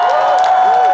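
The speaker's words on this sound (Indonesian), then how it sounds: "Kita berikan tepuk tangan yang meriah." A church congregation gives lively applause, loud and close, a dense steady wash of clapping with a sustained tone running underneath.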